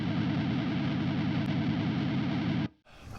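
Distorted British-style guitar amp tone captured through a Kemper Profiler with a power soak, a thick sustained crunchy chord ringing loud and steady before cutting off abruptly near the end.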